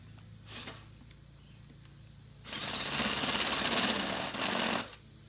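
A corded electric drill widens an existing hole with a 7/8 inch bit, running steadily for about two and a half seconds with a brief dip near the end before it stops, close and fairly loud.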